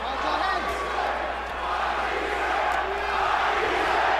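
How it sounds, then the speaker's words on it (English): Boxing arena crowd during the Provodnikov versus Matthysse fight, chanting Matthysse's name in a loud, steady, rhythmic roar that fills the hall without a break. "the crowd is chanting, Matthysse, Matthysse, Matthysse"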